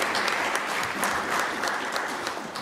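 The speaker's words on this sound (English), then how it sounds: "how about a round of applause for the Chamber of Commerce for putting this together?" An audience applauds at a regional National Civics Bee competition in Fayette County, a steady patter of many hands clapping, moderately loud and sustained without talk.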